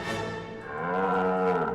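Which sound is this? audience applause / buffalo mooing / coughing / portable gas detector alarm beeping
buffalo mooing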